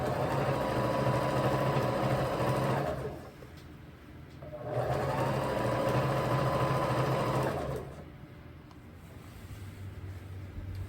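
A sewing machine stitches across an apron strap in two long, loud, steady runs, each easing off into a quieter pause before the next seam.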